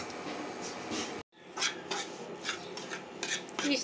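Oats roast in ghee in a pan, stirred with a spatula, making continuous scraping and rubbing strokes with light sizzle, close and fairly quiet, briefly broken by a short gap, with no talk over it.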